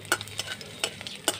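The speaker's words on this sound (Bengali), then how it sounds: "আদাটাকে একটু ভেজে নেব।" Chopped ginger fried in oil and stirred in the pan, a low sizzle broken by a few sharp scrapes of the spatula at uneven intervals, fairly quiet.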